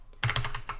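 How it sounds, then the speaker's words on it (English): Quick keystrokes on a computer keyboard enter an IP address in File Explorer, a short flurry of close, crisp clicks after a brief quiet start. "I will type in the IP address here"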